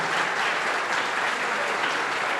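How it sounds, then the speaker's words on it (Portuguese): Steady applause fills a Brazilian state education event in São Paulo, honouring Professor Haroldo; dense, even clapping from an audience runs throughout without pause, moderately loud and close. "Queria agradecer, uma salva de palmas, pedir um agradecimento ao Haroldo"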